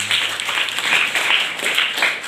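Audience applause for a young girl poet at a children's poetry gathering: dense, steady clapping from a crowd, sustained evenly throughout without speech.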